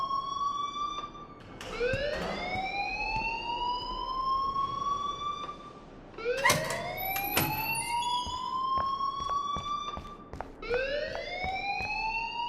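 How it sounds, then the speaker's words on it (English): A school fire alarm in the Life Is Strange video game wails in loud, rising siren sweeps, repeating about every four seconds with no talk over it. "please turn off that alarm since that's your job"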